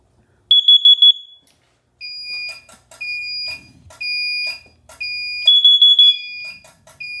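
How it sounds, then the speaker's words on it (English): A carbon monoxide detector under test sets off a fire alarm panel: a shrill pulsing alarm tone bursts in, then repeated electronic beeps and chirps from the panel and strobes sound loud and close, with a brief clunk of handling. "we're going to test our CO detector. Make sure that brings on our strobes and sets the panel off"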